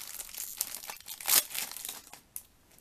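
Foil wrapping of a 2014-2015 Match Attax football card pack crinkles and tears close by, several small rustles building to one sharp rip near the middle, then softer crinkling with no voices.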